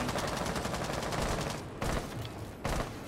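Rapid, continuous gunfire in a first-person shooter video game, loud and close, breaking into a few separate bursts near the end.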